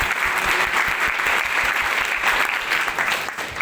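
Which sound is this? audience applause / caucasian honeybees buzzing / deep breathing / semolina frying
audience applause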